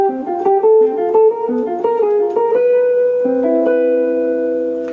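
Jazz guitar playing a ii-V-I line of arpeggiated chord voicings, single notes in quick succession settling onto a sustained final chord, close and clean, with no talking.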